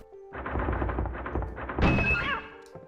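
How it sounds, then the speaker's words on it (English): In the video game Silent Hill, a cat bursts out of a school locker: a rapid run of hollow metallic thumps and clatter, then a sharp, loud feline screech that rises and fades quickly. "Reluctantly, we go to open it and a cat jumps out."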